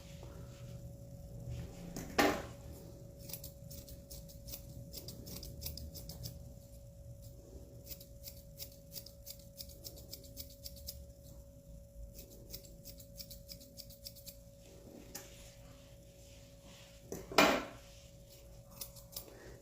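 Scissors snip repeatedly while trimming a poodle's coat during a Bedlington-style face cut, the crisp metallic cuts coming in quick irregular runs, with two louder clacks and a steady faint background hum.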